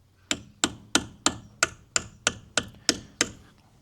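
A chisel gets hammered to tighten a bearing part on a Toyota Hilux, giving ten sharp metallic whacks at a steady rhythm, each with a short ringing decay, close and alone without talk.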